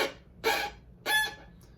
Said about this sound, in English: you might be hearing this sort of a little crunchy, a little crispy sound that sounds like this